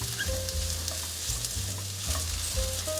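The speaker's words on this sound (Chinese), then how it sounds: "还有雪白菇，快速翻炒" White beech mushrooms being quickly stir-fried in a pan: a steady sizzle under repeated rhythmic scraping and tossing strokes, close and fairly loud, with no talking.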